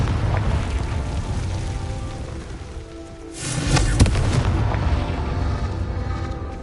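The Confringo blast spell goes off in a Harry Potter video game. A sudden booming explosion lands midway over a constant rumbling game backdrop, then a rolling roar fades slowly afterward.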